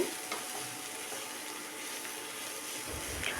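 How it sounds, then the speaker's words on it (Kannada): Cabbage sabji fries in an open pan with a steady, close sizzle and light stirring, continuous and even with no talking. "ಲಿಡ್ ಓಪನ್ ಮಾಡೋಣ ಇವಾಗ ಚೆನ್ನಾಗಿ ಫ್ರೈ ಆಗ್ತಾ ಇದೆ"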